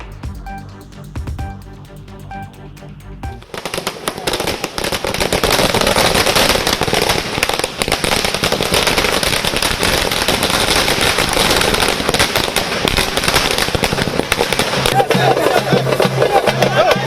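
Firecrackers burst in a dense, continuous crackling barrage at a political party's election victory celebration at Anna Arivalayam in Chennai, loud and sustained after a quieter opening with faint voices and music.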